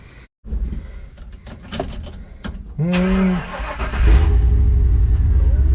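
A truck door thuds shut, then the engine cranks and catches, settling into a loud, steady idle rumble that fills the rest of the clip, with no talking.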